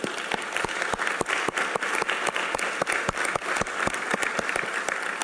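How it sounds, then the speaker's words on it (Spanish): A crowd gives students a round of applause, dense, close clapping with strong sharp individual claps standing out at a steady rhythm throughout. "por favor démosles un fuerte aplauso"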